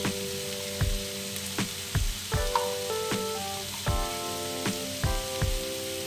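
Ghee sizzling in a pan with prawns, taro greens, chickpeas and coconut, a steady close frying hiss with scattered pops and crackles, fairly loud and continuous, with no talking.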